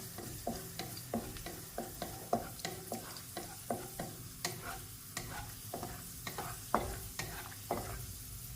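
Raisins and nuts fry in a pan while being stirred, with a steady run of scraping spoon strokes every half second or so over a soft, constant sizzle and no voices.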